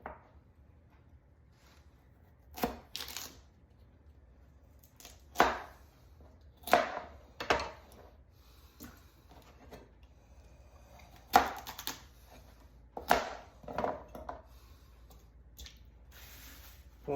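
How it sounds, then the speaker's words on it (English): Knife chopping carrots in half on a cutting board, a series of sharp separate chops with pauses between them, close and fairly loud over a quiet kitchen background. "We're going to rip them in half and then we're going to cut them in half again"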